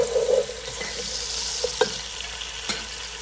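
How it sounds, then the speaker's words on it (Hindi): Finely chopped carrots stir-fry in a hot pan for restaurant-style egg fried rice, a steady close sizzle broken by a few sharp scrapes and clinks of a spatula stirring, with no talk. "अच्छा, अब मैं इसमें सबसे पहले गाजरें डालूंगी, जो मैंने ऐसे बारीक चॉप की हुई है"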